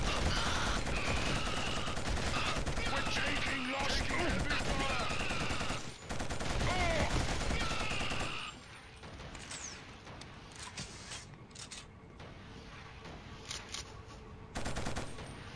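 Rapid gunfire and rocket blasts from the Killzone video game pound continuously for about eight seconds, then give way to sparser, quieter bursts and bangs. There is no talking over the shooting.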